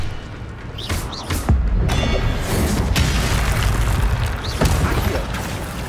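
Incendio fire spell bursts from a wand in the Hogwarts Legacy game, a series of whooshing booms and crackling blasts over a loud, continuous rumbling score that stays dense throughout.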